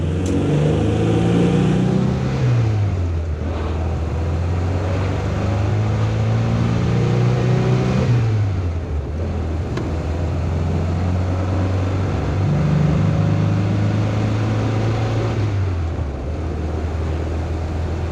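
Triumph Spitfire with a new distributor driving along a street, its engine droning loudly and close, rising and falling through gear changes and acceleration.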